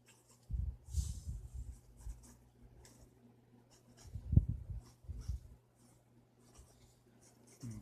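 Pencil drawing an oval rib cage shape for a creepy winged creature, heard as soft scratchy strokes on paper in short bursts, close and faint, with quiet gaps between them and no talking.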